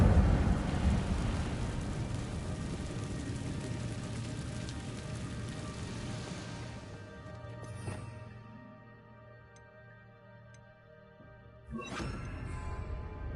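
In Hogwarts Legacy, the Incendio fire spell lands as a crackling, roaring blast that fades into a quieter hiss, followed by a few sharp later bursts, with no voices.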